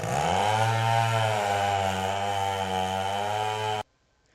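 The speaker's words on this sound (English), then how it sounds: "we can use the chainsaw." A chainsaw in a video game fishing and logging setting, cutting a big log into two sections: a loud, steady motor drone for nearly four seconds, pitch dipping slightly under load, then cutting off abruptly into silence.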